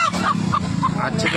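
Hens at the Shirur market give short, repeated clucks close by, over a steady hum of crowd chatter with people talking throughout.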